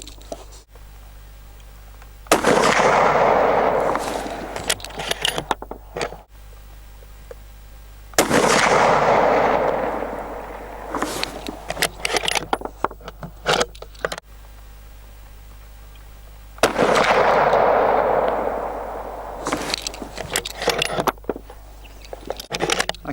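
Three loud rifle shots from an Anschutz 1780 in .308 firing Barnes Triple-Shot rounds, each a sharp blast with a long rolling outdoor echo, spaced several seconds apart with clicks and handling noise from the bolt between shots.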